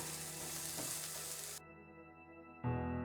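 Chopped zucchini sizzling and frying in a pan, a broad steady hiss that cuts off abruptly and returns with a louder sizzle near the end, no voices.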